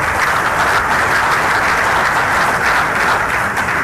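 Dense, loud applause from a large audience at a speech continues steadily throughout, with no voices over it.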